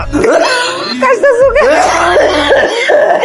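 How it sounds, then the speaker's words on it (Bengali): An ill, bedridden father coughs in a series of harsh, voiced bursts. The coughs are loud and close and run together with throaty vocal sounds. "আর আব্বা তো কাশতেছে কেন?"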